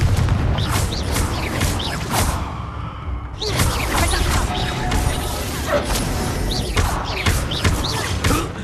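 Confringo and other blasting spells in Hogwarts Legacy combat crash and boom repeatedly amid whooshes and mechanical clatter, loud and dense, with a brief lull in the middle before the explosions resume.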